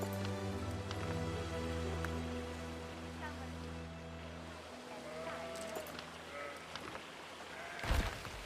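Faint sheep bleats in the Anno 117: Pax Romana Roman city-building game, a few short calls over a soft ambient music bed with light pattering and a low voice speaking.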